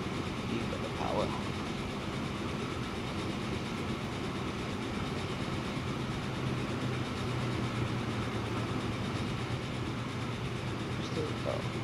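A video game train rumbles along steadily with a faint clatter, and the sound holds even and continuous throughout.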